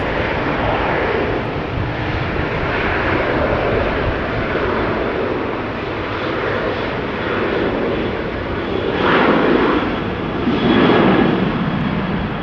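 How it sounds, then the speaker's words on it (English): A fixed-wing airplane takes off from Runway 24 at Amsterdam Schiphol Airport, giving a steady, loud broadband engine roar that holds for the full stretch and swells slightly near the end, with no voices. "your son is going to take off from Runway 24, Maria"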